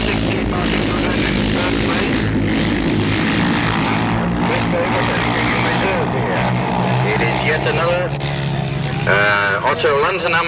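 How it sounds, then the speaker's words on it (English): A tuned Westlake engine on a grass track racing motorcycle revs hard at speed, a loud, continuous snarling drone that rises and falls through the stretch, with other machines blending in the background. "And when Chris winds this engine up, it really goes"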